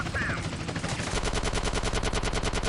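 Sustained automatic gunfire in GTA San Andreas, a rapid steady burst of loud shots continuing without pause, with a voice briefly heard near the start.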